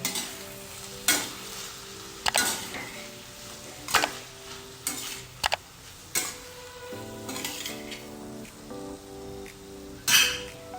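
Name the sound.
stirring cooked ivy gourd (tindora) with spice masala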